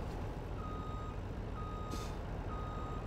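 A reversing truck in the Farming Simulator 19 game beeps steadily, three evenly spaced tones over a constant engine drone, with a brief air-brake hiss in the middle.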